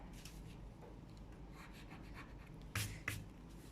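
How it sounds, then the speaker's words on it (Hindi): Pen on paper while writing a ledger by hand: soft, close scratching and rubbing strokes in short irregular runs, faint and quiet, ending with a couple of sharper taps. "सैलरीज एक्सपेंस का नाम लिखती हूँ, इसके नीचे 2 कॉलम्स ड्रॉ करती हूँ"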